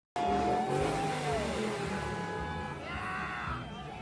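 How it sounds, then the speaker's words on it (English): Car engines rev loudly at a street protest, a rising and falling mechanical roar close by, with several surges and a faint tire squeal. "Revving their engines, being dumb."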